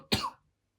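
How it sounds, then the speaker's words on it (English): A single short, sharp cough, close and moderately loud, followed by silence. "Oh, I've got a cough."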